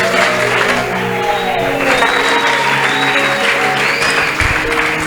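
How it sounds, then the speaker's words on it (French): Church congregation applauding at a Sunday service, a steady loud wash of clapping from many hands with faint crowd voices and tones mixed in. "Acclamez pour la soeur pour l'encourager."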